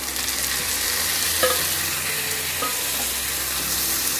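Roughly chopped tomatoes frying in a pan for Mumbai street-style masala pav, giving a steady, dense sizzle with a couple of faint scrapes, close and continuous with no talking.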